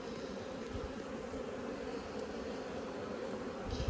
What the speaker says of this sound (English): Every single time I've cracked this hive open, like there's bees overflowing.